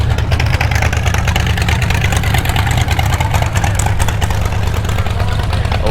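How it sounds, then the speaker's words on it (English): An open-header Chevy V8 at a classic car show rumbles loud and close, a thick low throbbing idle with slight revving that holds steady for several seconds, with outdoor crowd noise behind it. "Open header Chevy V8."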